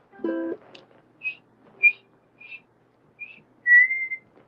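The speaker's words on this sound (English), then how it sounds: "I couldn't hit that high D with my whistle" A solo whistle plays a handful of short, separate high notes with brief pauses between them, then finishes on a longer held note that reaches for a high D, heard alone and clearly.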